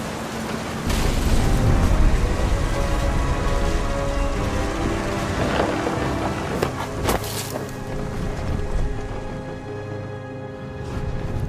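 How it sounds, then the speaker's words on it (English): Steady, fairly loud rain pours over deep rolling thunder in a What Remains of Edith Finch thunderstorm, with a sharper crack partway through before the storm gradually eases. "The thunder sounded much too close and full of angry power"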